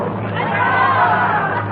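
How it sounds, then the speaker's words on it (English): A crowd watching executions at the guillotine in a radio drama of A Tale of Two Cities murmurs and chants in a steady, dense babble of many voices, fairly loud and continuous throughout. "the crowd counts in monotonous rhythm as each noble head rolls to the ground"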